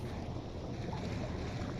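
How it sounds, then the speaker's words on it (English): Water drains steadily from flooded submarine compartments in Barotrauma, a continuous low rushing wash with no breaks, close and fairly quiet, with no voices. "Okay, the engine room is draining."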